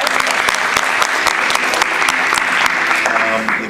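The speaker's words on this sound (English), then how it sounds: "Always clap for your funding." Audience applause filling the room, a dense, steady burst of clapping from a crowd at a summit gathering, loud and sustained throughout.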